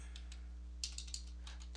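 Keys clattering on a computer keyboard as a command is typed into an Ubuntu shell, a quiet run of irregular taps with a denser burst of strokes midway, alone with no talk.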